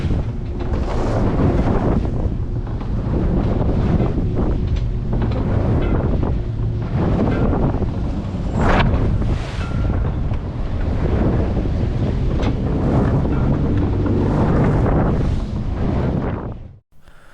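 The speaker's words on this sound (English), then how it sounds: "an east wind with a falling tide is always a little sporty coming through Carolina Beach Inlet" Strong wind roars across the microphone while waves slap at a boat running through Carolina Beach Inlet on a falling tide with an east wind. The rumble is loud and constant for the whole stretch, with surges of water noise and no voices.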